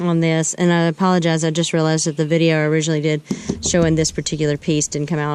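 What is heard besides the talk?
No everyday noises stand out.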